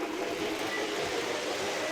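A moving train gives a steady, loud rumble and broad rushing noise with no clear clicks or pauses, heard close by without voices.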